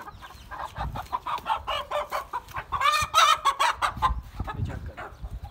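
Aseel breed hens clucking close by, with repeated short calls and busy overlapping chatter from a small flock that includes chicks, fairly loud and continuous throughout.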